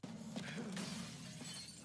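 A glass-breaking effect from the video game Judgment bursts out loud and close, a single sustained shattering crash that fills the short moment on its own.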